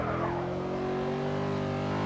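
Simulated 1970s muscle car engine in a racing video game at Brands Hatch, holding a steady droning note through the hairpin as it works down the gears, continuous and fairly loud with no talk.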